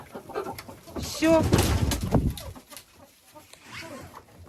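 Hens cluck near a wire-mesh feeder while a person talks, a brief burst of clucking rising mid-clip over quieter background sounds.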